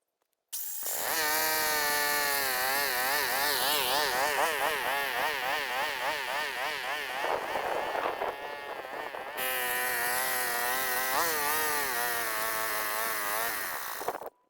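Heavy diesel walk-behind tractor engine idling roughly and unevenly outdoors in cool weather, a loud close buzzing drone whose pitch wavers and surges over about fourteen seconds, with a brief dip in the middle before it steadies again.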